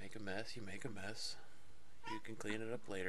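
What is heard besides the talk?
cat meowing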